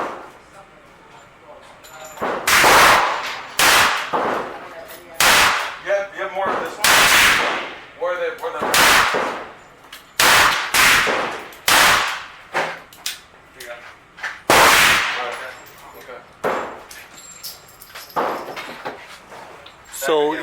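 A handgun fires repeatedly in double action, offhand at 12.5 yards: about a dozen sharp, loud reports at irregular intervals of one to two seconds, with quieter handling noise between shots.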